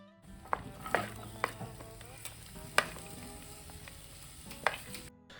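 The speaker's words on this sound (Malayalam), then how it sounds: "ഇനി ആ ഒരു സെയിം പാനിലേക്ക് തന്നെ ഇതിലേക്ക് ആവശ്യമായിട്ടുള്ള വെജിറ്റബിൾസും കൂടെ ആഡ് ചെയ്ത് കൊടുക്കുകയാണ്" Cabbage, carrot, capsicum and onion stir-fry in a pan, a soft continuous sizzle broken by several sharp clinks and scrapes of a utensil against the metal.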